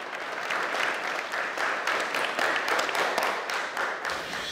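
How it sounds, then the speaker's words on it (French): A crowd from the Kurdish community applauds at a funeral, a thick continuous patter of many hands clapping at steady, fairly loud level, briefly thinning toward the end. "sous les applaudissements de la communauté kurde"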